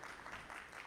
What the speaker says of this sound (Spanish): Un aplauso de nuevo, amén, al Señor.